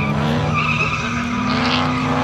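Drift cars skidding on a race track at a drift event in Kaloyanovo, loud sustained tire squeal layered over engine roar, continuous and fairly close throughout.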